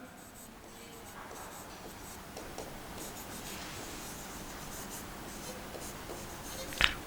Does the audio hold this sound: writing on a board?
yes